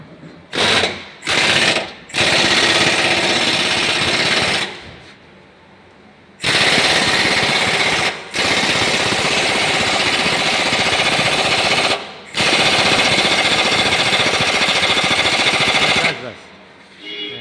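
Pneumatic impact wrench bursts tightening wheel nuts on a Mahindra Bolero Neo during a wheel alignment job, loud rattling runs of several seconds separated by brief pauses, close by in a workshop.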